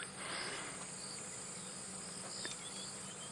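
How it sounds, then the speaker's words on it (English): A continuous high-pitched insect drone fills the background, a faint, even buzzing chorus with no other sounds. "Cicadas all around."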